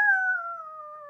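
A dog howls in one long, steady, drawn-out tone during a children's music class, close and fairly loud, with no talking over it.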